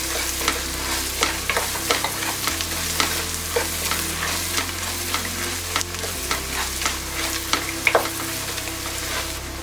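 Biryani masala with coriander powder being stir-fried in a pan for mutton dum biryani: a steady sizzle with repeated scraping stirs of the spatula, close and continuous.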